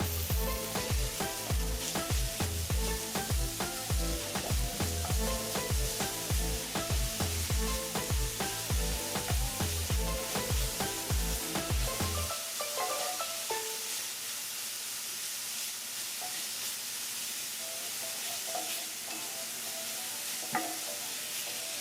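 Garlic, hot pepper and green seasoning sizzle and are stirred in a hot pan for about twelve seconds, loud and busy with clattering, then settling into a softer, steady frying hiss.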